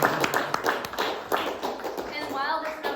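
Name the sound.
audience clapping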